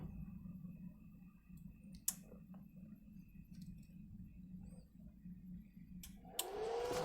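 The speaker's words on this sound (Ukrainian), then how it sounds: "О, термостат спрацював, спрацював вентилятор." A power inverter with a relay stabiliser switches over as its thermostat clicks sharply, followed near the end by a cooling fan spinning up into a rising whir over a low steady hum.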